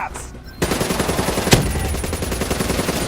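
Rapid machine-gun fire in Black Ops 3 shooting down flying zaps, a dense, loud, continuous burst after a quieter start, with one sharper crack midway.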